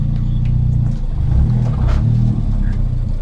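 A custom track-tuned Ford Fiesta ST engine drones with a deep, steady rumble during a road drive, loud and close, with a slight rise in the middle of the run.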